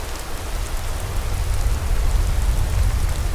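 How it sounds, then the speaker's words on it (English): Steady rain pours in the video game Skyrim, a dense, even hiss with a deep low rumble beneath, constant and fairly loud with no voices. "Okay, the rain."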